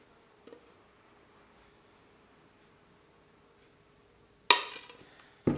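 Scored stained glass snaps under running pliers, one sharp, loud crack followed by a second quick snap, preceded by a faint tick in an otherwise quiet room.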